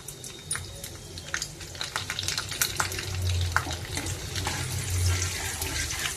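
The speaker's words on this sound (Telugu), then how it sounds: "ఇవి వేగుతున్నాయి కదా, కొంచెం వేగాలండి." Urad dal, cumin and chana dal sizzling in hot oil in a pan before potatoes are added, a steady close crackle and hiss with rising intensity, no talk.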